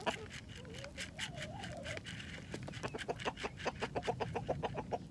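Chickens cluck and chatter steadily nearby, with quick repeated clucks building toward the end and a warbling call early on.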